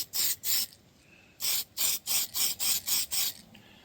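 An aerosol can sprays black paint onto a Tamiya Bigwig model car body in short, sharp hissing bursts: two quick puffs, a pause, then a rapid run of about seven more, close and loud with no talk.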